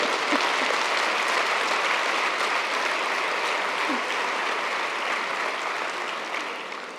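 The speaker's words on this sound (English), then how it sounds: "A round of applause to him." A conference audience gives a sustained round of applause at an opening address, a dense wash of many hands clapping steadily throughout before easing slightly at the end.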